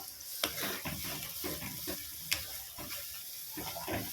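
Spice paste of ground cumin and water frying in a pan for Kashmiri aloo dum, a steady close sizzle with intermittent scraping stir strokes and a couple of sharp clinks.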